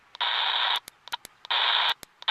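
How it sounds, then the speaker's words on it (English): Single sideband transmissions picked up on a CB radio on channel 19 come through as bursts of buzzy, garbled, distorted voice, interrupted by short clicks and pops, with a brief quiet gap between the two transmissions. "Wow, we can hear sideband."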